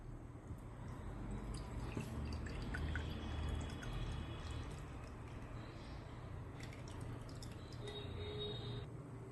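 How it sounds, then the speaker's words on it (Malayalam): Squeezed-out soaked tamarind water is strained through a sieve into a bowl, making a faint, steady trickle with a few light drips over a low background hum. "ഇനി ഇത് ഒരു അരിപ്പയിലൂടെ അരിച്ച് ഒരു ബൗളിലേക്ക് ഒഴിക്കാം."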